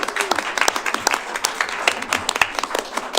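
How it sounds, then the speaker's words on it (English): A small city council meeting audience applauds a newly sworn-in city clerk, with distinct, fairly close individual claps forming a loose, uneven round of applause. "How about a round of applause?"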